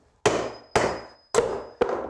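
A hammer strikes wood four times to knock a piece out of a cut timber, giving sharp, loud, close knocks at an uneven pace, each with a short ringing decay.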